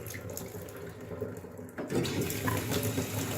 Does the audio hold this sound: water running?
yes